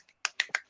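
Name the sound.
audience finger snapping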